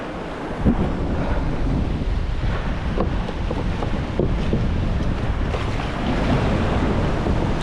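Big waves roll in around a kayak at sea, a continuous wash of surf mixed with heavy wind buffeting on the microphone, with a few louder surges and splashes and no voices.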